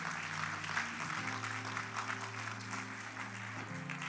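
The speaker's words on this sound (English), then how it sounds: "Somebody clap their hands." A church congregation claps during Sunday worship, steady broadband clapping running the full length under sustained organ or keyboard chords.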